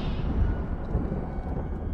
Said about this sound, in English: It's thundering a lot.